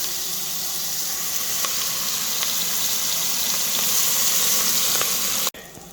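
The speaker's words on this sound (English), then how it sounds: "it's going to let those onions cook so they get nice and brown before we go to our next step" Onions frying and browning in a pan alongside seared beef short ribs, with a constant close sizzle and a few faint ticks, then a sudden cut near the end; no one speaks.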